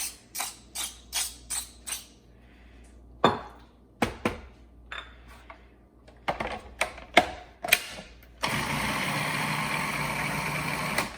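A food processor whizzes beet dip seasoned with salt, pepper and cumin: a few short pulses and knocks first, then a loud, steady blending roar for the last few seconds with no talking.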